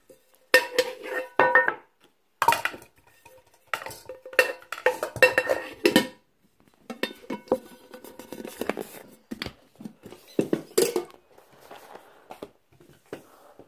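Metal camping cooking pots and a lid clank, rattle and scrape in irregular clusters of sharp knocks with short silent pauses between, close by and without speech.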